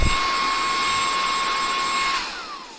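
A cordless brushless vacuum cleaner runs with a loud, steady high whine close by, then its pitch slides downward as the motor spins down, with no voices.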